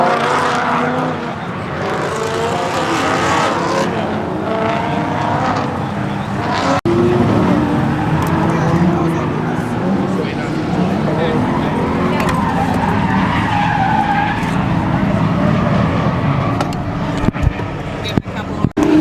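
A Nissan 370Z drift car roars and skids, heard from inside during a ride-along, with a sustained engine drone, tire squeals and scrubbing, and people talking over the noise.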